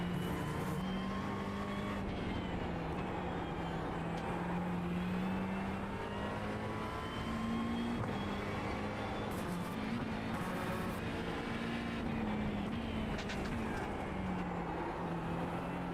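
Steady engine note of a McLaren GT3 race car lapping Oran Park in a racing video game, holding a continuous drone that rises and falls through gear changes, loud and close throughout.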